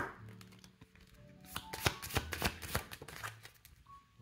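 A deck of cards shuffled for a reading gives a quiet, close series of rapid riffling snaps and slaps, building into a dense flurry midway and then tapering off, with no talking.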